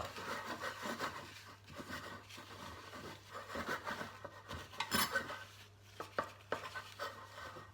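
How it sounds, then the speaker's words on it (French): Paper towel rubbed around the inside of a lightly greased baking dish, a quiet scuffing and wiping with intermittent soft scrapes and taps against the dish, close and low in level, no talking. "À l'aide d'un petit sopalin ou autre, vous passez tout autour."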